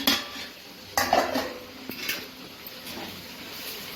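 A lid goes onto a cooking pot of brinjal curry, giving a sharp metallic clank near the one-second mark, a smaller knock just before two seconds, and light rattles and scrapes of kitchenware around them.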